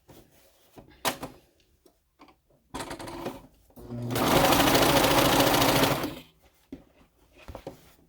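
A cover stitch sewing machine top stitching down a skort seam runs in one loud, fast whirring burst of about two seconds, framed by nearby handling clicks, fabric rustles and short start-stop stitching sounds.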